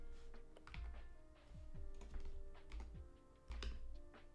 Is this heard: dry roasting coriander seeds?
no